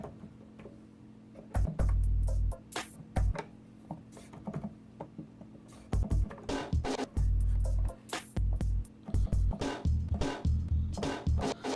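Choppy, stuttering bursts of sampled sound with deep thumping low notes, starting and stopping in uneven fragments with sharp clicks between them.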